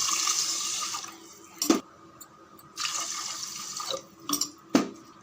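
Water is poured over washed rice in a pressure cooker, coming as a few splashing pours separated by pauses, with sharp knocks between them, fairly close and without talk.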